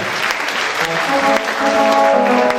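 A church congregation in Geneva applauds in acclamation during a worship service. Sustained, fairly loud clapping from many hands blends with tonal voices or music beneath, rising slightly toward the end.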